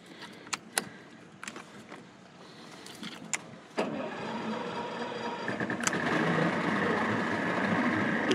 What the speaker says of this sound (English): We start up our motor.